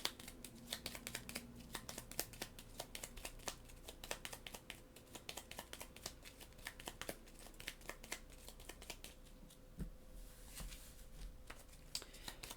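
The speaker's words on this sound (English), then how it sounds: "we're going to shuffle up their cards" Board game cards for a solo play session are shuffled by hand, a quiet run of rapid crisp riffling flicks and soft card slaps up close, with no talking.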